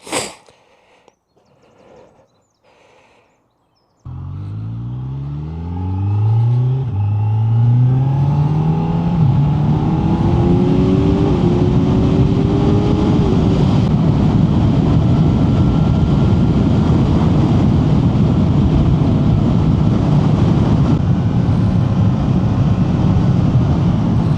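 A Honda Hornet 1000 or Kawasaki Z900 motorcycle engine starts after a few faint clicks, then revs and climbs through rising, sweeping tones into a loud, steady, close-up roar that holds to the end.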